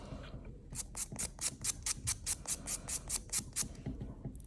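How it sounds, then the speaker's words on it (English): Shellac-coated fingernails are buffed with quick back-and-forth strokes, a steady run of about a dozen close, scratchy rasps in an even rhythm, with no one talking. "So I'm not going to file, but I'm going to buff."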